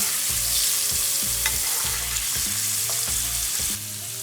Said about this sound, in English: Here, I'm gonna add some of that beautiful butter. Let it continue to sizzle.